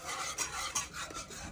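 A spoon stirs pasta sauce with chilli flakes in a pan, making a soft, continuous scraping and swishing that stays quiet and close, with no voices.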